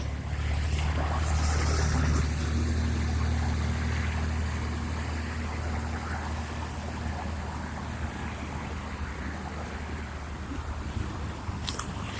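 Nearby road traffic produces a steady low rumble with wind noise throughout, loud and continuous beside a roadside spot on Vancouver Island, with no voices.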